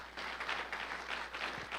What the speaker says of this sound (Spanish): Le damos un aplauso a Dios.